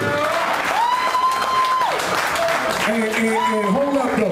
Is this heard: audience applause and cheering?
yes